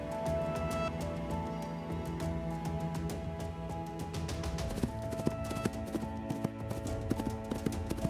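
A young Camargue horse moves about with irregular hoof clip-clops, close and distinct, over a steady background hum.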